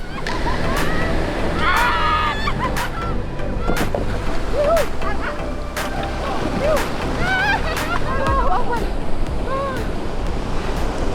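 Big ocean waves surge and slosh around a small boat far out at sea, with steady wind buffeting the microphone and people talking over the constant wash of water.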